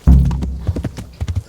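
Horse hooves clip-clop across open ground in the medieval game Kingdom Come: Deliverance, a close, loud series of uneven thuds following a heavier first step.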